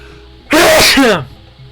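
A single loud sneeze bursts out suddenly and close, lasting under a second, then a quiet voice follows as it trails off.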